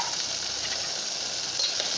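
Curry cooks in a covered pot, giving a soft, even sizzling hiss that holds steady and close for a couple of seconds.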